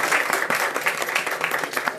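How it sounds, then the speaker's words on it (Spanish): Applause for two professors at a university politics talk, a short burst of many hands clapping together with fairly steady intensity. "les invito a dar un fuerte aplauso para nuestros dos profesores"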